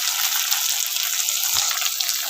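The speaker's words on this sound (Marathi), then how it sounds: "टोमॅटो टाकून घेऊया." Tomatoes go into poha cooking in a pan, giving a steady close hiss like a gentle sizzle with one soft low thud partway through, and no talking.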